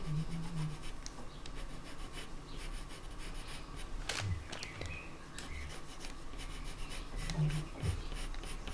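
A coloured pencil pressed hard on paper, drawing wood grain texture, gives a steady close rubbing scratch that runs throughout with a few brief louder marks and faint background noise.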